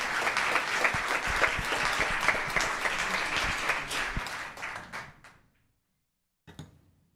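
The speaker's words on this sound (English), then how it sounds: "how about some applause for Johann?" An audience at a town council meeting applauds, dense steady clapping that fades out after about five seconds, followed by silence and a short final burst.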